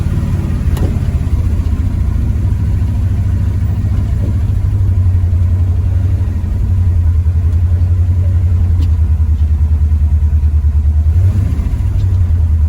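A 1973 Pontiac Firebird's engine labors up a hill in a loud, steady, low drone that barely changes pitch, with a few faint knocks over the rumble.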